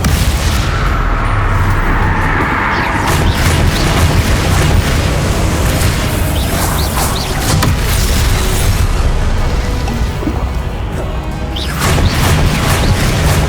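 Confringo explosion spells blast during a Hogwarts Legacy video game fight, a loud, continuous run of booming explosions, smashes and crashing debris with sharp bursts scattered throughout and no break in the din.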